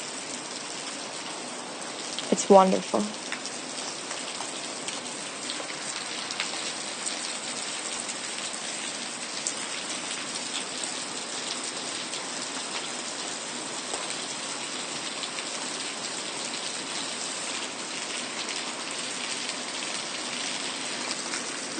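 Steady rain falls outside a cabin in the woods, an even, continuous patter that holds throughout; a brief spoken line interrupts early on.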